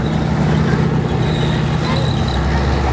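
A Sturmgeschütz, a turretless German Second World War assault gun, rumbles and clatters loudly at close range during a tank museum battle demonstration, a steady heavy engine roar with mechanical grinding, and a voice briefly audible beneath it.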